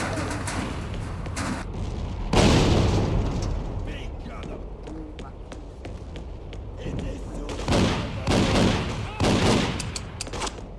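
Gunfire in the video game Freedom Fighters: bursts of shots and rattling automatic fire come and go across the scene, some louder volleys near the end, with someone talking over parts of it.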